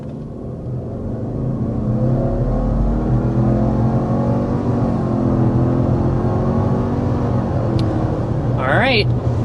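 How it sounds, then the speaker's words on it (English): A 2026 Subaru Outback XT, the more powerful turbo powertrain, accelerating hard up to 60 mph, its engine drone rising steadily with a rumbling cabin roar throughout and a brief sharp noise near the end. "we need to go ahead and start with a hard acceleration"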